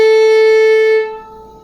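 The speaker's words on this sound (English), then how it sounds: "you can clearly hear my string ring even after I stopped playing" One violin note bowed with relaxed arm weight, held for about a second, then the string keeps ringing softly and fades after the bow stops.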